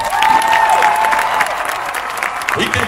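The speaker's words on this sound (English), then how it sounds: "let's give all of our competing high school bands another round of applause" Audience applause and light cheering for competing high school bands at an evening band festival, a steady dense clatter of many hands throughout with a faint tone above.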